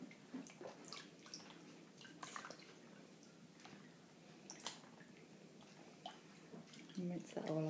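Hands are rinsed in a bowl of water during a hand massage, with faint, soft drips, small splashes and swishes close by in a quiet room, and a louder splash near the end.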